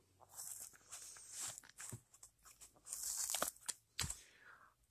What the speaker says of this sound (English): I'm going to start by trying to pry up this corner right here.